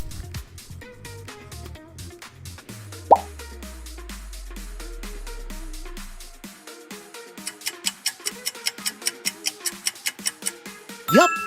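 Coca-Cola sound logo with a bottle cap pop and fizz: a sharp pop over a sliding low tone, then a quick run of bright rhythmic clicks and clinks ending in a final burst, with no voices.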